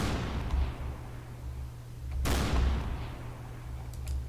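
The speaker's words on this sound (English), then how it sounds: "now it fires 2 rounds" An ACF gun in Garry's Mod fires twice, with a heavy booming blast midway that decays into a rumbling tail, followed later by a fainter crack over a low ambient hum.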